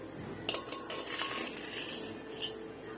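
A plate is set down on a kitchen surface while rice-flour roti dough is prepared, giving a few quiet clinks and clatters with a brief scrape, close by and otherwise fairly quiet.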